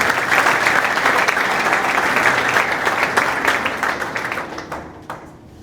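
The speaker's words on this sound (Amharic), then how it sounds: "እና ወደዚህ ጋር አጨብጭቡ ለእግዚአብሔር" A church congregation at a prophetic service claps loudly for several seconds in dense, sustained applause that gradually thins and fades toward the end.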